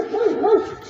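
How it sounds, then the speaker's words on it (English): A dog, heard up close and fairly loud, lets out a short run of whiny, yelping barks that rise and fall in pitch over about a second, with no other sound around it. "oh God, another dog"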